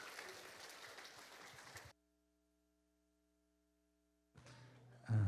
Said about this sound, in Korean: 박수로 함께 맞아주실까요?